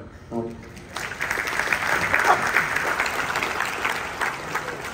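Audience applause at a Marathi actor's live event swells after a brief voice, a dense, steady clapping that holds loud and close for several seconds.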